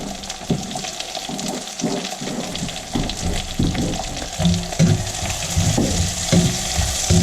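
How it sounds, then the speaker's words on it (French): Chopped onions hiss and crackle as they hit hot oil in a pan for a mushroom masala, a steady, close sizzle with bursts of scraping and stirring throughout. "je vais verser les oignons coupés en petits morceaux"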